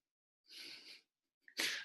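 A person sneezes twice in quick succession, close and fairly faint, a breathy hiss followed after a short pause by a sharper burst, with no talking.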